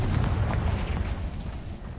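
A Confringo blasting spell from the Harry Potter world goes off as a dense, booming explosion that rumbles continuously for two seconds, loud and heavy in the low end, with no voices over it.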